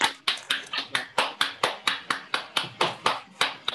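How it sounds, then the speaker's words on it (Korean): An audience claps for a flower bouquet presentation at a book launch, with about fifteen sharp, evenly spaced claps in a quick, steady rhythm, close and clear with no talking. "박수 부탁드립니다"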